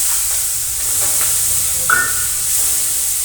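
Curry leaves, tomatoes and garlic dropped into hot oil with mustard seeds for tempering, making a continuous steamy hiss and sizzle with a brief sharper spit partway through, nearby and without voices.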